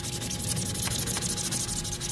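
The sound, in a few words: scrubbing dough press swing arm clean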